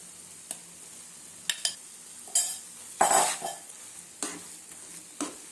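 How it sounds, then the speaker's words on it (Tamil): Soaked semolina being stirred into a pan in a zero-oil steamed snack recipe: a series of distinct scraping and knocking strokes of a utensil against the pan over a soft, quiet background, with no talking. "சேர்த்துட்டு எல்லாத்தையும் நல்லா மொத்தமாக நல்லா கலந்து விட்டுடலாம்"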